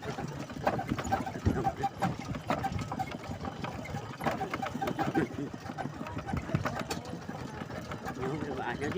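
A walking tractor engine chugs steadily while driving along a path to rice fields, rough and continuous with rattling, and people talk over it.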